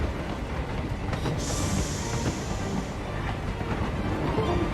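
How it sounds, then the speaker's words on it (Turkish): A moving train in the Carpathian Mountains of Romania from Hitman 3: a steady rumble of wheels and carriages close by, with a high metallic squeal of wheels on rail in the middle. "Oha giden bir trendeymişiz lan biz."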